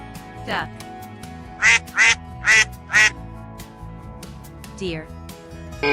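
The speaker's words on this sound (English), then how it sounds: "Duck." A duck quacks in a quick series of four loud, raspy quacks close by, followed by a softer, higher call after a pause.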